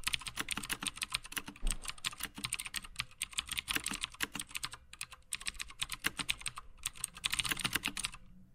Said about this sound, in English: this DOS keyboard with blue is like the first mechanical keyboard I ever tried for Mac specifically